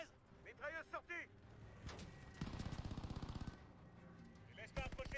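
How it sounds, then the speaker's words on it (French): A machine gun fires a rapid, steady burst lasting about a second in the World War II video game Call of Duty: Vanguard, mixed with aircraft and game noise while a player talks over it. "Mitrailleuse sortie."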